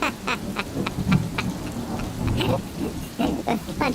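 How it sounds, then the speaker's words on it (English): Heavy rain falls steadily in a thunderstorm, with rumbling thunder and crackling drops spread across the whole stretch. The storm stays dense and loud, and no one talks over it. "The thunder's so loud,"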